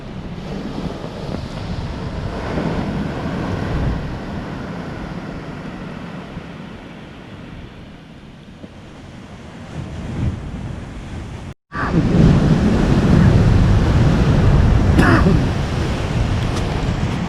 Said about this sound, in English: these waves here are nuts